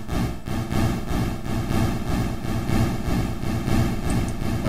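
An FV-1 reverb patch turns a click impulse into a soft poof that rolls into a recirculating reverb ring. A steady, dense wash of noise holds loud and even throughout.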